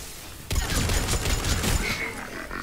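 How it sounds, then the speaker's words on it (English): Laser weapon fire in Mass Effect 3 during a fight with a Banshee nearby, a dense burst of rapid crackling blasts that starts abruptly and rolls on for over a second before thinning out, loud and close, with a voice faintly mixed in. "Gavok is firing his laser"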